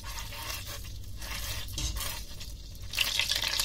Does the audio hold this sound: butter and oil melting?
yes